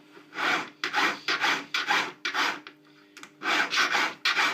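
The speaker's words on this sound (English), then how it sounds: "So a slightly coarser file." A coarser metal file rasps across a wedding ring being sized down, a series of close, rhythmic scraping strokes with brief pauses between them, with no voices.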